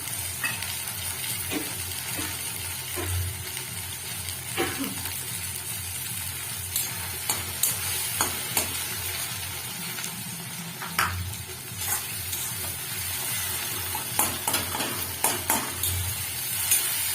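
Tomato goes into spices frying for a home-style mutton curry, producing a continuous close sizzle with recurring stir scrapes and light clicks from a utensil against the pot.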